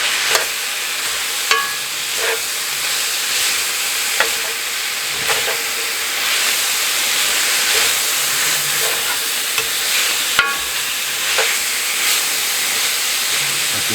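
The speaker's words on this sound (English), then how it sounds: "Let this saute up with frying." Cheesesteak ingredients with garlic sauté in a hot frying pan, giving a steady, loud sizzle and hiss throughout, with occasional clinks and scrapes of stirring, and no talking.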